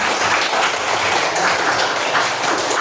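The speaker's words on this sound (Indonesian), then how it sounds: "Terima kasih, tepuk tangan untuk kita semua." A classroom of students applauds together at the close of a teaching session, dense steady clapping throughout at close range with no speech over it.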